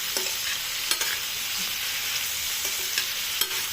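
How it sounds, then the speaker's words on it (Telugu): Mushrooms and green chillies sizzle in hot oil in a pan, a soft steady frying hiss broken by a few scraping stirs of a utensil, close and fairly quiet, with no talking. "ఇలా పచ్చిమిర్చి మష్రూమ్ వేసాక ఫ్రై చేసేద్దామండి"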